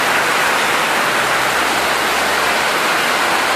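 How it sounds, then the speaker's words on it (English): Heavy tropical downpour in Trinidad pouring off a roof, a dense, loud, steady hiss of rain and splashing water with no break, close and filling the whole scene. "looking at this rain."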